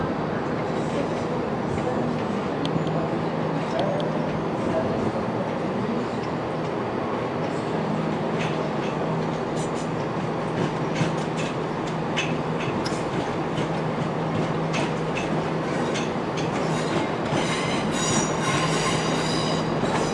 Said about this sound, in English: Train now approaching platform 6 is the 1809 West Midlands Railway Service from Birmingham New Street.